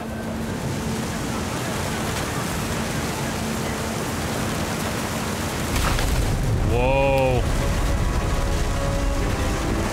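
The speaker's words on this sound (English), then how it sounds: "The rain came down in buckets" Heavy rain pours down in What Remains of Edith Finch, a dense, steady hiss that thickens and grows louder partway through, while a voice briefly exclaims near the end.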